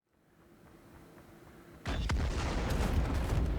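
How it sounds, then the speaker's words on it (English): A secondary explosion in the Star Citizen video game bursts out loudly and abruptly after a low rumbling lead-in, then roars on as a sustained, dense blast of debris and fire noise to the end. "now we have a secondary explosion and now everything is destroyed"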